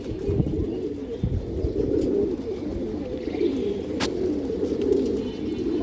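Female pigeons cooing at close range in a low, continuous murmur of soft coos, with a faint chirp or two above the steady cooing.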